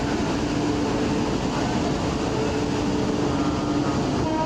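An Indian Railways train rumbles loudly and steadily, the Patna Ekta Express running from Pune toward Rameswaram. The dense, continuous roar sounds like it is heard from close by or on board, with no talk over it.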